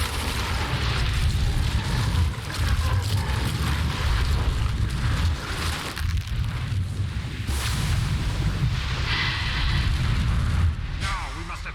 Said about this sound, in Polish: Aby użyć lodowej eksplozji.